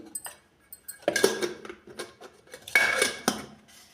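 A spoon clinks and scrapes against a metal pot while masala powder goes into a fish head sambar, with two bursts of metallic rattling and lighter taps between them, close and fairly quiet, no talking.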